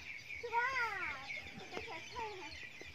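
Domestic chickens cluck close by in a rural yard, a run of short rising and falling calls repeating across a few seconds with faint background voices.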